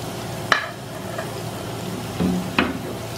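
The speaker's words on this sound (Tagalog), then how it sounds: "Ito po yung cheese na pinapry yung halloumi." Halloumi cheese frying in a pan for pancit canton topping, a soft steady sizzle with a few brief clinks or scrapes of stirring, close and alone.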